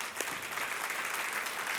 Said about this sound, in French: On peut applaudir le Seigneur pour ça.